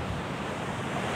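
Calm sea waves and a light breeze on the beach at Imbé, a steady rushing wash of surf mixed with wind buffeting the microphone, loud and continuous with no voices.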